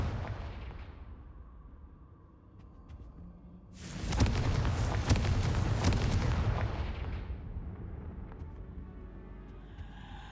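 Confringo fire spell explosions in Hogwarts Legacy: a sharp, loud blast bursts in over a quiet background and rumbles on for a few seconds before slowly fading away.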